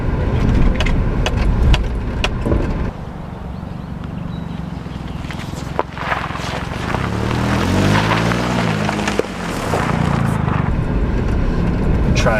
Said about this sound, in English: Oh, we have a bit of a gravel road